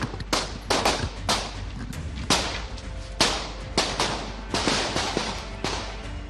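Gunfire from three semi-automatic pistols in a rapid burst of sharp cracks, about a dozen shots fired in quick irregular succession, loud and close, with echoing tails.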